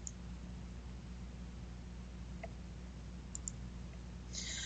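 A few soft, isolated computer mouse clicks, spaced out over a low steady hum and hiss.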